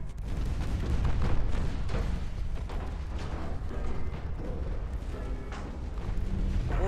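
Torpedo hits and explosions in a naval warfare video game battle with British ships, a continuous rumbling barrage of deep booms and blasts layered over each other without pause, loud and chaotic throughout.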